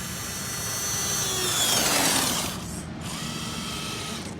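A Gen 8 RC scaler crawler in second gear on its low transmission gears, giving off a steady high electric motor whine that rises and falls in pitch, close and continuous, dipping briefly near the end.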